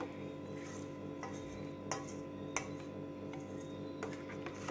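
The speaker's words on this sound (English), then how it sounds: "So you just keep mixing. Mix everything together." Moi moi bean batter stirred with curry, a spoon tapping and scraping against the bowl in scattered soft clicks over a steady low background hum, fairly quiet and close.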